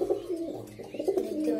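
Pigeons coo in a pigeon loft, soft throaty rolling calls repeating close by and overlapping, with no one talking.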